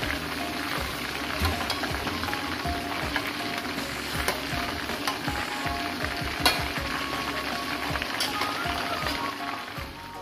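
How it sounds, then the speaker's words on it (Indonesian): Chicken pieces frying in hot oil for a sweet-spicy soy sauce dish, a steady dense sizzle and crackle with scattered pops, close and continuous with no talk. "Ini daging ayamnya cukup seperti ini aja saya gorengnya"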